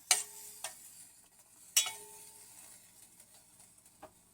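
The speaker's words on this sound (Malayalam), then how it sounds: "കടുക് താളിച്ചത് ചെമ്മീൻ കറിയോടൊപ്പം ചേർത്ത് നന്നായി ഇളക്കുക." Spoon stirring tempered mustard seeds into a Kerala-style coconut prawn curry, a few sharp clinks and scrapes against the pot spaced over a few seconds, quiet and close with faint sizzling between.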